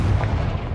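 Heavy, low rumbling boom of a Confringo fire spell explosion in the Hogwarts Legacy video game, loud and close, one short continuous blast with no voices.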